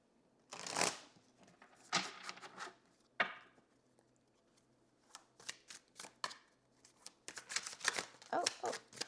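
Tarot cards being shuffled up close, a series of quick riffling and sliding bursts with short pauses between them, clear and isolated with no talk.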